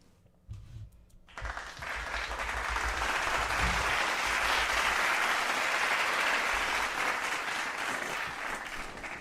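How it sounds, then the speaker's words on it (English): Sustained applause from an audience honoring Heaven Sent, swelling after a brief quiet start into a dense, steady wash of clapping that holds loud to the end. "So we're going to clap for Heaven Sent."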